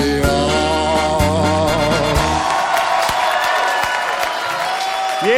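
Audience applause and cheering after a sung performance on a singing show, a steady crowd wash mixed under sustained music and singing that carries on throughout.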